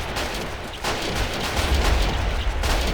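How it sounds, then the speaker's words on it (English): Rifle fire rattles through a battle in the World War II strategy game Men of War: Assault Squad 2, a dense, continuous crackle of gunfire with heavy low booms swelling toward the end, loud and with no talk over it. "Oh yeah, a lot of rifle fire"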